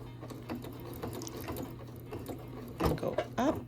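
A sewing machine stitches slowly through a thick towel corner, its motor humming under soft mechanical clicks, with a few louder, quicker bursts of stitching near the end.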